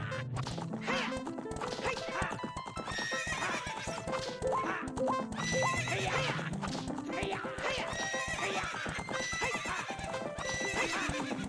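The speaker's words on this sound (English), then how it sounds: "Epona making actual horse noises" Epona the horse neighs and whinnies repeatedly with clip-clopping hooves in a randomizer run of the video game Ocarina of Time, loud and close, with busy game sounds and no talk.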